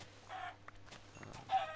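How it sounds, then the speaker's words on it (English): Minecraft chickens clucking in quiet, short bursts, with a few small clicks and game noises between them and no voices. "I'm just trying to kill as many chickens as I can without stopping."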